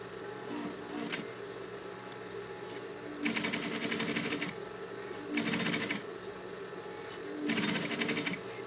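Sewing machine stitching a synthetic leather school pencil case, three distinct bursts of rapid rattling stitching separated by quieter pauses with faint background hum.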